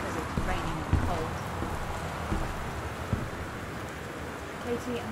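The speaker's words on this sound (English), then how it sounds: "I don't want to go outside because it's raining and cold." Steady rain falls outside in the video game Gone Home, a continuous soft hiss with a few faint taps, while a voice talks over it.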